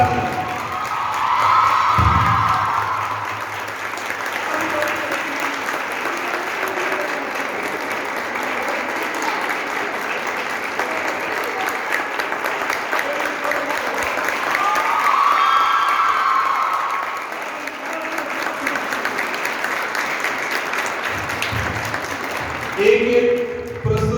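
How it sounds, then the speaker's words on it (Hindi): At a school Republic Day celebration, a crowd gives Shefali and Aditi loud, continuous applause mixed with cheers and children's shouts, a voice briefly audible at the start and end. "शेफाली और अदिति के लिए जोरदार ताली।"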